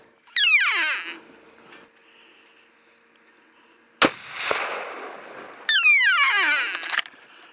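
A single rifle shot cracks sharply during an elk hunt, sudden and loud, followed by a rolling echo that fades across open country, with descending whistling sweeps heard before and after.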